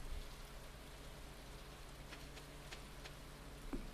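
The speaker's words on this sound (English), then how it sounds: "So it is raining" Steady, soft rain falls in the Stardew Valley farming game, a low continuous patter with a few faint ticks of drops scattered through it.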